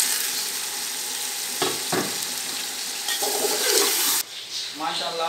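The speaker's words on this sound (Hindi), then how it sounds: "मैं अभी इसमें बीफ जो है, गोश्त उबला हुआ, वो शामिल करने लगा हूँ ताकि थोड़ा सा और भुन जाएगा" Boiled beef frying with browned onions in oil, a steady loud sizzle with stirring scrapes and a sharp drop in sizzle near the end, with a voice talking over it.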